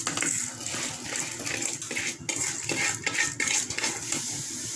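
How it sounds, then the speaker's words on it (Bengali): Lentils poured into a pot of boiling water on a home stove, a close, uneven patter and clatter of grains and metal with bubbling water beneath, no talk. "এখন আমি ডাল দিয়ে দেবো।"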